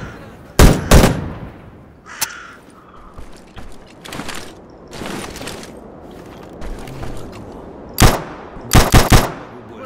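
Gunfire in the co-op mode of the video game Stalker: Shadow of Chernobyl: a couple of sharp, loud shots open the scene, scattered softer clatter follows, and a tight cluster of rapid shots closes it.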